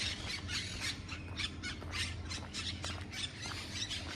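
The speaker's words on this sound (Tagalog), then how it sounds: "Yan ay ito yung parrot kung tawagin, parrot." A parrot squawks repeatedly in harsh, irregular bursts, somewhat distant, over a low steady background hum.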